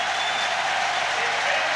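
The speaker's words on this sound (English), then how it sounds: "the whole of the crowd have been up on their feet for three or four more laps" A stadium crowd roars steadily and loudly through a record-breaking 5000m run, a dense, continuous wash of cheering and applause with no breaks or single voices standing out.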